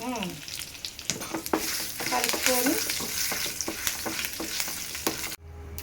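A tempering of turmeric and asafoetida paste sizzles and spits in hot oil while a spoon stirs and scrapes the pan, with a voice speaking briefly over the frying before it cuts off.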